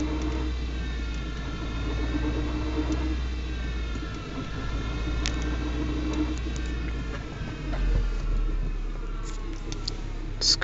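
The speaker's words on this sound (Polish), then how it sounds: "Metaliczne uderzenia słychać." Audi 80 B4 2.0 with a damaged CGT manual gearbox driving at low throttle, steady engine and road drone with rising whining tones and intermittent metallic knocks from the transmission, heard from inside the car.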